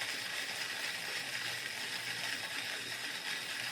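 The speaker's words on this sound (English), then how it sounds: "Grinding." Coffee beans ground for pour-over in a grinder, a steady, faint, continuous grinding rattle with a ratcheting mechanical texture, unbroken throughout.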